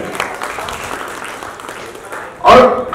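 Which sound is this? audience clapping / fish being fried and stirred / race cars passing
audience clapping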